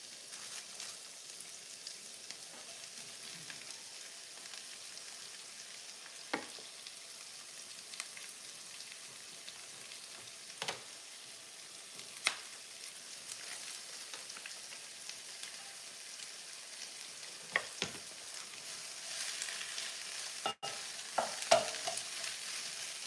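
Shredded cabbage frying and being stirred in a pan for a copycat chow mein, a steady quiet sizzle broken by scattered scraping clicks of the utensil, with no voices.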